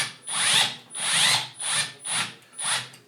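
Power drill driving screws in, five short whirring bursts of the driver tightening them down, each rising and stopping with brief pauses between, close and clear with no talk.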